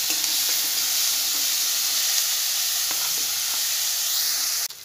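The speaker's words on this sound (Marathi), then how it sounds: "यामध्ये आपण टोमॅटो घालून घेणार आहोत आणि ह्याला पण व्यवस्थित भाजून घेणार आहोत." Tomato frying with onion in a pan, a steady hissing sizzle close by with occasional soft stirring, cut off abruptly near the end.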